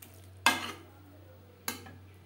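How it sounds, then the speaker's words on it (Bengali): Peas get stirred into a no-onion, no-garlic cabbage curry in a pan, with two separate short spoon scrapes about a second apart against a faint, quiet hum. "বাঁধাকপির সাথে মটরশুঁটি বেশ ভালো করে মিক্সড করে দেব"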